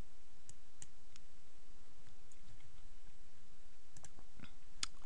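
A computer mouse gives a few sparse, quiet clicks while saving a WordPress plugin setting, against a faint steady room hiss, with no talking.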